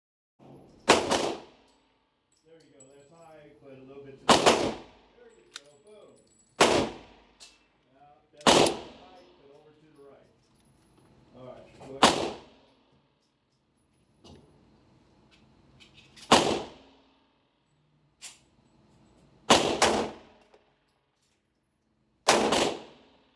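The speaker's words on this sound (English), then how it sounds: "First, you will see me shoot with the compensated barrel." A Shadow Systems CR920P pistol with a compensated barrel fires about nine loud, close shots at irregular intervals of a few seconds. Brief speech-like sounds fall between the early shots.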